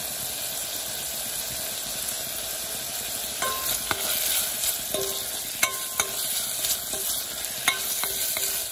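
Bacon frying and being stirred in a pan until crisp, a steady loud sizzle that runs throughout, with close utensil clinks and scrapes against the pan in the second half and no talking.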